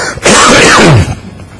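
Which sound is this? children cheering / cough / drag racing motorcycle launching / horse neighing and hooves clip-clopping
cough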